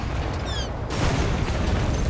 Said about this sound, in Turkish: Ah patladı güzel.